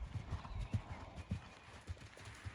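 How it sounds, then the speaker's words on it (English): A horse cantering toward fences during training at home, rhythmic dull hoofbeats thudding on the ground in a steady three-beat pattern, moderately close, with no talking. "I really like the canter that she's coming into these fences with."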